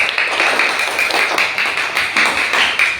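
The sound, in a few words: class applauding for group 2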